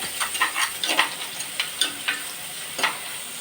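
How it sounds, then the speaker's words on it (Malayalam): Onions and green chilies sautéing in a hot pan, giving a light sizzle broken by a few scattered stirring scrapes and clicks. "സവാളയും പച്ചമുളകും ഇട്ട് കൊടുക്കാം വേഗം തന്നെ ഒന്ന് വഴറ്റി കൊടുക്കാം നമുക്ക്"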